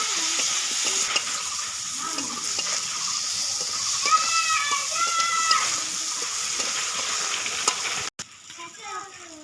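Fish curry of river bele fish with potatoes, salt, turmeric and ground chili paste being stirred in a pan, giving a steady sizzle with scraping and bubbling throughout that cuts off abruptly near the end.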